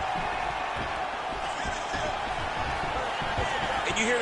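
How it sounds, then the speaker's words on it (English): Arena crowd noise in the fighting video game EA Sports UFC 5, a continuous roar with thuds of landing strikes scattered through it, loud and dense throughout. "you hear the crowd react every time they come together"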